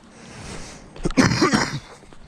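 A man with a cold lets out a short burst of harsh coughing outdoors at night, a single close, rough fit lasting about a second.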